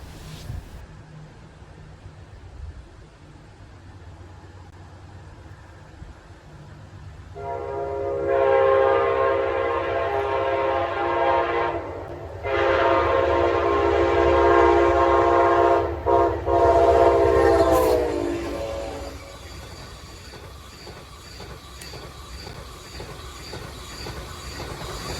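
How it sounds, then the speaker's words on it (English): An Amtrak Avelia high-speed train passes close by with a loud rumbling, whooshing roar that swells for about ten seconds, briefly dips, then fades back into quiet outdoor ambience. "Amtrak delivery for the Avelia numero 5"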